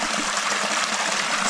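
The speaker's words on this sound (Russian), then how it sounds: "А вот так выглядит водопад Серебряные струи с самого верха." Water cascading down the Silver Streams waterfall (Serebryanye Strui) in Crimea in autumn, a steady, dense, close rush of falling water with no voices.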